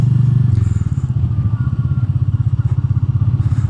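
A motorcycle is ridden with an Insta360 X4 camera mounted on it, producing a close, pulsing engine rumble with a rapid regular beat and some rattling clatter throughout.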